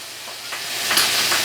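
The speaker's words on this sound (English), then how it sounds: "a little bit of water, because I just want to steam them" String beans steam in a pan with a little water, giving a steady close hiss that swells slightly partway through.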